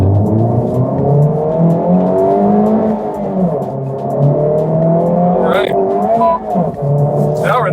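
A Honda Civic Type R engine rises and falls in pitch as the car is driven hard, loud and close inside the cabin, with two people talking over it.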